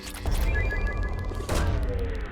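A probe launching from a ship in Mass Effect 2, heard as a dense whooshing, rumbling burst that swells, then renews with a brighter surge about a second later, over steady low engine hum.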